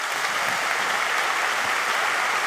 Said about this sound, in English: Please give them a very loud round of applause.